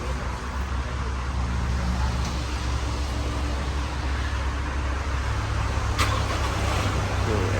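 A 2022 Toyota Fortuner Legender starts by remote starter and settles into a steady, close diesel idle, a constant low rumble with no talking.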